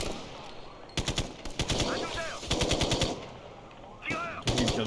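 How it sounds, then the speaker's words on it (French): Machine-gun fire crackles in rapid bursts as enemies shoot at the player in Ghost Recon Future Soldier, several sharp volleys separated by short pauses, with gameplay sounds and brief voices between. "Qui me tire dessus, là?"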